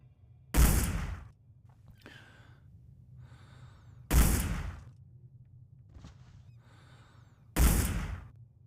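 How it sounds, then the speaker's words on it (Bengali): Three sniper rifle shots fired at guards in the Hitman video game, each a loud sharp blast with a decaying tail, spaced a few seconds apart over quiet in-game ambience. "তিনটে গার্ড আছে যাদেরকে আমাকে স্নাইপার দিয়ে মারতে হবে"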